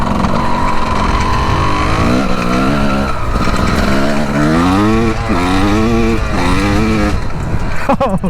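A two-stroke dirt bike engine ridden by a first-time rider, droning close and continuously, its pitch climbing and dropping repeatedly as the throttle opens and the gears change.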